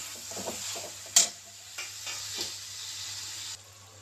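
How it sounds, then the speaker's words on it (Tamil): Tomatoes and ginger sauté for chicken biryani with a soft, steady hiss and sizzle, broken by a few scraping stirs and one sharp clink, close by and fairly quiet. "அடுத்து தக்காளி போட்டுக்கலாம். தக்காளி கொஞ்சம் வதங்கட்டும்."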